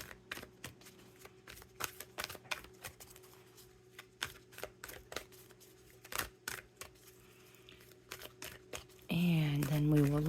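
A deck of oracle cards being shuffled by hand, a quiet run of crisp riffling snaps and slides in an irregular rhythm, ending with a louder burst of voice or music.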